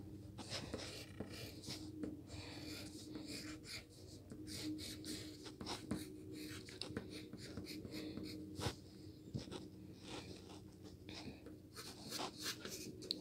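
Pencil or pen strokes scratch across paper while a star is drawn, a run of quick close rubbing strokes with short pauses, faint and without speech.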